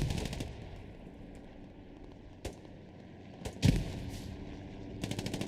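Squad video game combat with traded grenades and gunfire: a faint, distant battlefield hum broken by scattered sharp bursts of shots, one heavier thump near the middle and a quick rattling volley at the end.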